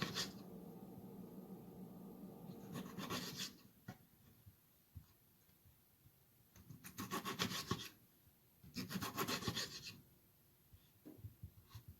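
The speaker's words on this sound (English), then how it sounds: "We're just going to slice up the tomato." A knife saws through a tomato on a cutting board in a few separate bursts of rasping strokes, quiet and close, with pauses between cuts.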